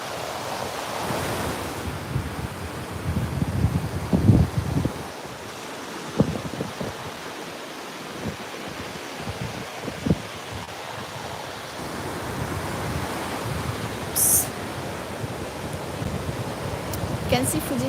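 Surf washes onto Enoshima beach near Kamakura at sunset, a soft continuous roar with occasional louder breaking waves, overlaid by gusts of wind buffeting the microphone.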